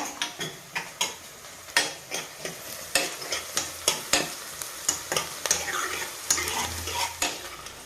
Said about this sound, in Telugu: ఉల్లిపాయలు వేగుతున్నాయండి ఇక్కడ